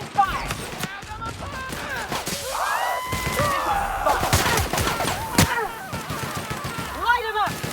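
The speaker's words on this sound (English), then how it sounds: "Opening fire!" Gunfire from a firefight in The Outer Worlds video game: rapid, irregular bursts of sharp shots crackle close by, mixed with whooshing energy weapon effects and scattered battle noise, with no talk over the shooting.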